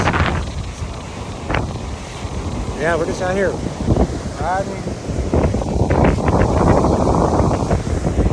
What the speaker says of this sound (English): You probably can't hear me. The wind's crazy.